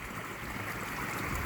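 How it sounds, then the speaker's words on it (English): A small babbling brook fitted with floodgates, heard outdoors in Cornwall as a steady, close, continuous rush and trickle of flowing water with no break. "Little babbling brook with floodgates."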